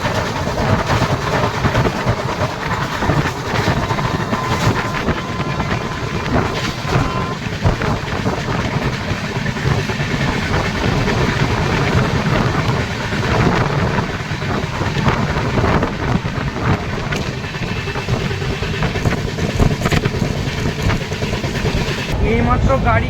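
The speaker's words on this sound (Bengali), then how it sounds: "এইমাত্র গাড়ি কোলাঘাট ব্রিজ ক্রস করলো" The Rupasi Bangla Express crosses the Kolaghat bridge at high speed, heard from on board as a loud, continuous rumble and roar mixed with wind that runs steadily throughout.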